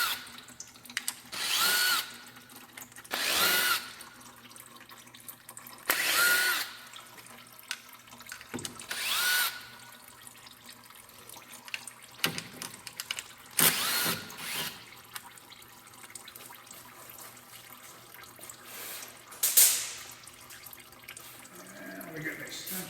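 A power tool backs transmission pan bolts out of a 2007 Hyundai Accent, giving several short loud bursts of whirring separated by pauses, with clinks and faint trickling fluid in between.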